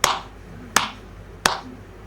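Three sharp, bright claps spaced evenly about three-quarters of a second apart, made by hands patting out roti dough, each crack standing alone with a short decay and quiet between.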